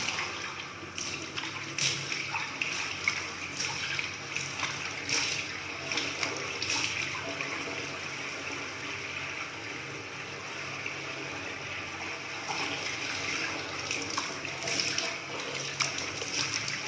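Plain water splashing steadily from a tap while a face mask is rinsed off by hand at home, a continuous hiss of running water broken by irregular splashes.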